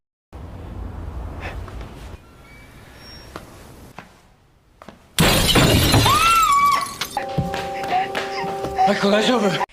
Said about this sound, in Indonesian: kaca jendela kamar mereka pun pecah setelah ada orang asing melemparkan sebuah mesin mobil bekas